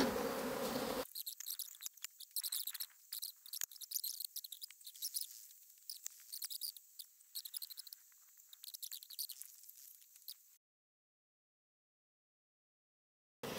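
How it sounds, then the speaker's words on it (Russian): Agitated bees at an open beehive during a queen-rearing check give a thin, restless buzzing with erratic bursts close by, starting after a loud opening moment and stopping abruptly before a silent stretch. "Пчелки возбудились."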